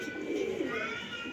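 A breeder pigeon gives a brief soft coo, faint and close, against quiet background hiss.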